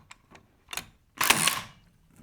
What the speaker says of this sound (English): the good thing about the stapler is you can get two cables in one.